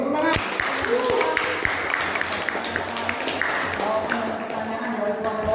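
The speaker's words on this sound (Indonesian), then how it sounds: "Bagus, tepuk tangan." Students applaud in a classroom during a group presentation in a floor gymnastics lesson, a busy, steady patter of many hands clapping close by for several seconds, with some voices mixed in.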